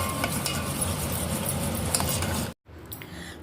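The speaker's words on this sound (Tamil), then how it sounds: "மோர் குழம்புல சேர்த்துட்டு நல்லா கலந்து விட்டுடலாம்" A spoon stirs beaten curd into South Indian buttermilk curry (mor kuzhambu) in a pot after the stove is switched off. Close, continuous scraping and swishing runs throughout, then breaks off briefly near the end.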